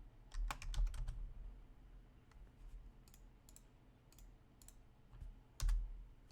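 A command is typed on a computer keyboard at close range: quiet, crisp key clicks come in short irregular bursts with gaps between them.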